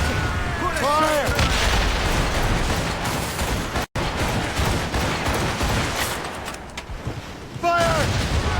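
Ship cannons roar in a naval fight in Assassin's Creed Rogue as a dense, continuous barrage of booms and crackling blasts under wind and waves, with shouted voices briefly heard.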